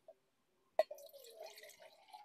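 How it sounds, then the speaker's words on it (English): Water pours briefly into a canteen cup after a single clink at the start, a soft, close trickle that runs steadily for under two seconds with nothing else around it. "Then I'm going to fill my canteen cup."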